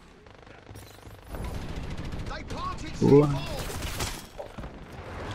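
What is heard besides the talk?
gunfire in the video game Dirty Bomb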